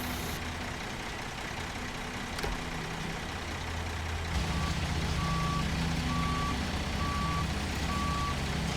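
A truck in the SnowRunner video game sounds steady reversing beeps in an even rhythm over a loud idling engine rumble, close and continuous with no talking.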